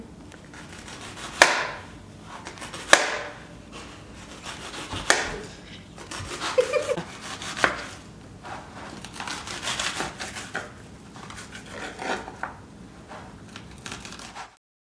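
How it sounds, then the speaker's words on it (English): A knife slices through half an onion in a series of crisp cuts, each ending in a sharp knock against the cutting board. The cuts come a second or two apart, close and clear, with no talk. "we slice a half an onion"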